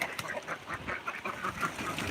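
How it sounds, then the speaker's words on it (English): Ducks come out of their pen on a small homestead, giving a few quick quacks and fowl calls at moderate distance amid shuffling movement, with no one speaking. "And the ducks."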